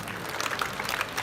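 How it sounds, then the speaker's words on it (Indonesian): Crowd at the opening of the Bali Arts Festival at Ardha Candra Art Center applauding the artists, a short burst of lively clapping from a large outdoor audience. "Tepuk tangan untuk seniman kita."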